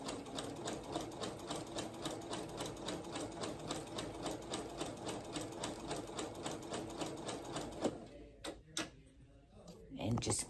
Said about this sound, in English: just sew this, zigzagging back and forth all the way down